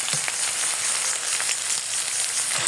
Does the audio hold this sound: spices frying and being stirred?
yes